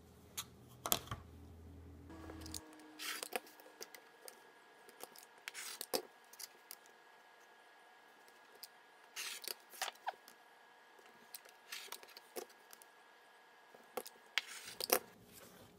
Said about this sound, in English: So I'll speed up the part where I'm cutting